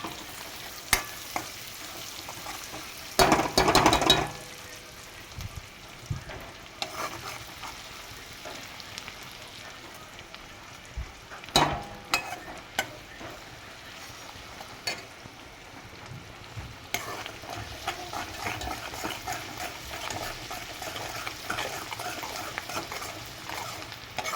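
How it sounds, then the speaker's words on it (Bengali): Green chili, ginger and garlic fry in oil with a steady crackling sizzle, broken by repeated scraping stirs and clattering utensil knocks, close and without talk. "কাঁচা লঙ্কা, আদা আর রসুনটাকে আমি তেলে দিয়ে দিয়েছি ফ্রাই হওয়ার জন্য।"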